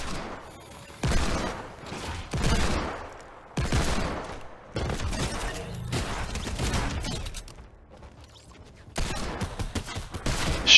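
Desert Eagle pistol shots from a Fortnite Arsenal match, loud broadband cracks in irregular bursts with several spaced shots and game sounds between them, no speech over the firing.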